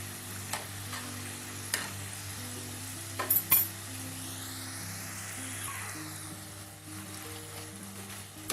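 Okra (lady finger) frying in hot oil, a steady close sizzle and hiss with occasional stirring clatter as the pieces are turned in the pan.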